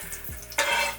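Onions frying in the same pan used for a wagyu steak, a brief faint sizzle that swells suddenly into a brighter hiss after a soft clunk, heard close without talking.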